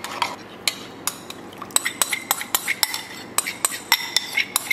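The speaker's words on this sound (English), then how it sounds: "And then mix in that vinaigrette really well." Cold pasta salad being stirred with vinaigrette, a spoon clinking against a bowl in quick, irregular taps and scrapes, fairly close and clear with no talking.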